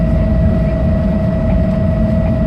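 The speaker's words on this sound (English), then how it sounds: "This ferry has like a jet turbine engine, I think, and it's right behind me." A loud, steady engine roar with a high whine on top, continuous and close, from a jet turbine ferry engine running right nearby in Macau.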